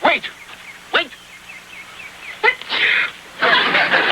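A sneeze bursts out in a scene from the sitcom The Real McCoys, sharp and close, amid other short vocal bursts and spoken lines.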